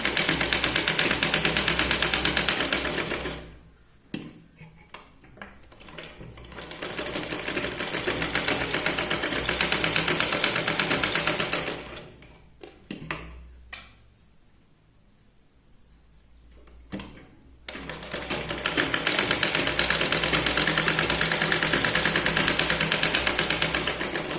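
A sewing machine stitches around the neckline of a princess-cut blouse, running in long loud steady bursts with two pauses between stretches of stitching.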